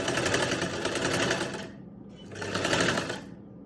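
A sewing machine stitches down the centre of a garment neckline in two quick runs with a short pause between, close and steady.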